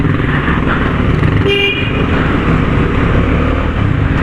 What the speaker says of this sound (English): Now this is the Dominar 250, the 250cc motorcycle from Bajaj